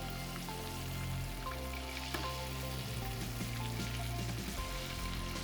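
A pork steak sizzles steadily in a hot pan as melted butter and oil infused with garlic and herbs are basted over it, a dense, even crackle with no voices.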